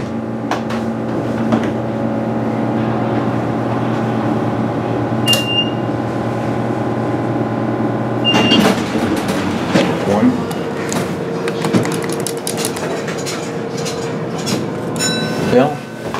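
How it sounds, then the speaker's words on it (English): A Haughton/Tyler elevator with 4,000-pound capacity at a Century 21 outlet store in Paramus, New Jersey, runs with a steady motor hum, then a clunk and rattling as it shifts, with a few chimes. "just your basic looking Century 21 elevator"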